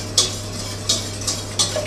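Milk béchamel sauce whisked in a pot over medium heat, with four evenly spaced scraping strokes of the whisk against the pot, close and clear, over a steady low hum.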